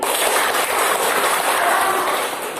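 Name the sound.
audience applause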